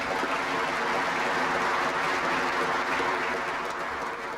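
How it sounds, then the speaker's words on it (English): Sustained audience applause for President Clinton during his visit to Northern Ireland, a dense, steady roar of many hands clapping throughout at an even, loud level. "It had been a day of applause for a president"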